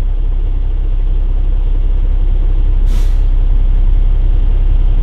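Truck air brake governor cutting out, a single short, sharp hiss of released air over a loud, steady idling engine rumble.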